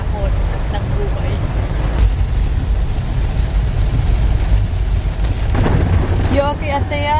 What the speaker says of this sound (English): Lakas ng ulan guys, sinusubok talaga tayo ng panahon at ng buhay.